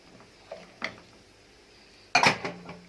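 A spoon stirs lentils and rice with salt, black pepper, cumin and curry in a pot for Alexandrian yellow koshari, giving a few faint scrapes and clinks against the metal and one sharper clatter near the end.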